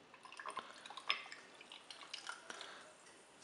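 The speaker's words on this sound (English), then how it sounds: "Pour it in." Scheckter's Organic Energy Drink is poured into a glass, a close, fairly quiet stream of liquid with splashy trickling and a few brighter drips, heard alone without talk.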